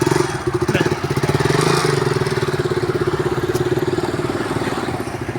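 A motorcycle engine runs steadily at a low, throbbing idle, its rhythmic pulse continuing nearby throughout with faint background noise.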